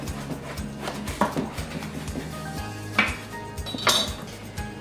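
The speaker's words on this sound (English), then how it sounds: "And then we're gonna pop it onto a baking tray." Eggplant halves are set onto a metal baking tray in a kitchen, with several close clanks and scrapes of pan and utensils at uneven intervals, a couple of sharper knocks standing out, no talking.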